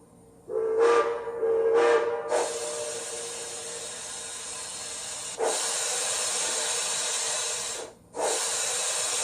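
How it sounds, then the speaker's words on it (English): A Bachmann Southern Pacific GS4 model steam locomotive whistle gives two short toots, then a long continuous hissing blast that pauses briefly and resumes, close and fairly loud. "I also enabled the directional whistles"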